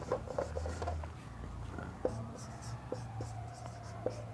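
Chalk or marker strokes on a board, a series of short scratchy taps and rubs spaced irregularly during a geometry lesson, fairly quiet with faint room noise beneath.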